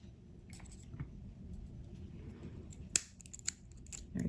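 Small scissors snip cotton wick during an RDA coil build, two or three crisp close cuts over a quiet, low background hum.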